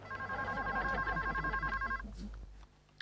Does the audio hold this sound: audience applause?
no